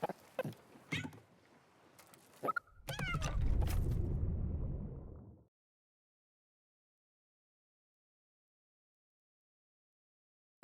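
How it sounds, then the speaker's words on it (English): A cat meows in a movie, several short calls and then a longer drawn-out cry, close and clear, before the sound drops to silence. "The main character's cat."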